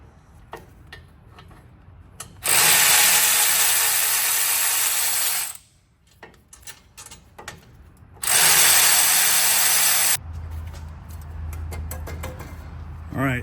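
A ratchet loosens bolts on a truck wheel bearing during a wheel bearing swap, two loud bursts of rapid clicking of about three seconds each, separated by quieter tool handling and small knocks, close to the listener.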